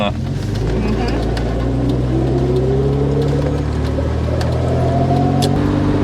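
A 1974 Volvo 164e with an automatic transmission drives along, a steady close road roar under a low engine hum that climbs smoothly in pitch as it accelerates.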